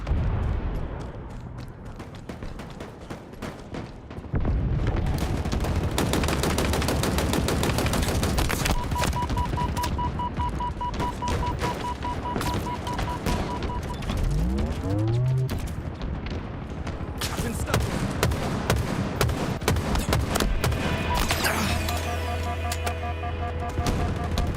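Video game gun firing in repeated rapid bursts, dense and loud throughout, with other game effects mixed in and no voices.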